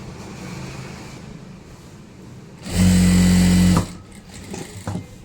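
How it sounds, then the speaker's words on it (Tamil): Sewing machine stitching the hem of a kuppayam blouse, a loud steady motor hum with rapid needle chatter in one burst of about a second, starting and stopping cleanly amid quiet room noise. "அடிப்பக்கத்தில் முதல்ல தைச்சு ரெடி பண்ணி வச்சிடணும்."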